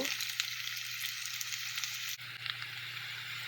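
Steady, dense sizzle of onions and potatoes frying in hot oil, close and fairly loud, with a brief dip partway through before the crackling resumes.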